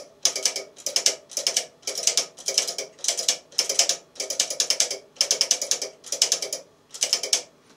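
A rotary coil switch on a home-made Christian Koppler antenna tuner is turned step by step, giving a rapid, regular series of loud ratcheting clicks in close bursts about every half second.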